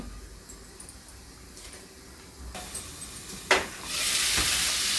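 Potatoes and spices fry in a covered pan with a soft sizzle. A few metallic clinks and a sharp knock come partway through, then the frying swells louder toward the end.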